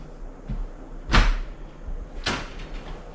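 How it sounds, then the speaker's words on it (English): A dishwasher door in a tiny-house cabin kitchen is opened, giving two soft, close clunks about a second apart against a quiet room. "Be able to open the dishwasher"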